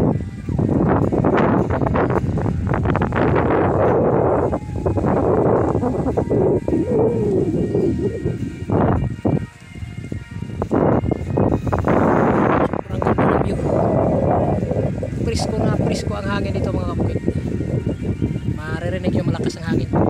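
Strong wind gusts on a mountaintop buffet the microphone with a loud, rumbling roar that swells and dips throughout, while people talk nearby.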